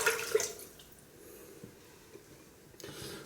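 Hot water is tipped out of a shaving mug in brief splashy pours, one near the start and another toward the end, with quiet trickling between.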